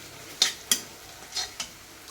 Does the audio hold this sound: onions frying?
yes